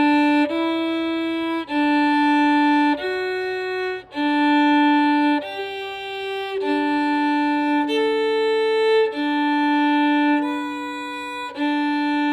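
Beginning orchestra string players bowing an octave from open D to high D, sustained bowed notes repeated in several phrases with short breaks, clear and loud with no talking.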